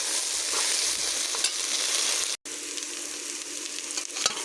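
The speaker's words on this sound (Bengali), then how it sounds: "একটু আমি কচুগুলো ভেজে দেবো" Taro pieces frying in oil in a pan, giving a loud, continuous hissing sizzle that carries on alone with a brief cut partway through.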